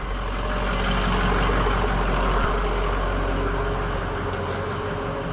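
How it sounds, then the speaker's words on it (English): A truck engine runs with a loud, steady low rumble close by, holding evenly throughout with a faint brief clank partway through. "let me go start this truck."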